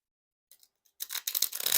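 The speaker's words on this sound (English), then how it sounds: "Like you can get a little bit of a riffle." A Mini Blue Bicycle Rider Back playing-card deck being riffle shuffled: a couple of faint ticks, then a close, brief fluttering crackle of cards that builds over the final second.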